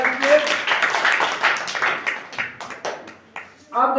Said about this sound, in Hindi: तालियां बजा दीजिए